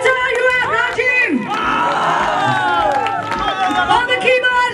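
Concert crowd at a band's closing show cheering and whooping loudly with clapping throughout, a dense continuous roar with shouts rising and falling, while a voice speaks over it.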